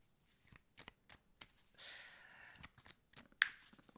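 Tarot cards shuffled by hand in a few crisp riffling bursts and soft slaps, close and fairly quiet, with a longer papery rush in the middle and a sharp snap near the end.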